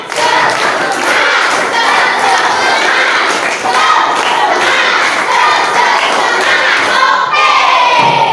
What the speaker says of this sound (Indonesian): Ayo tepuk semangat sekali lagi yuk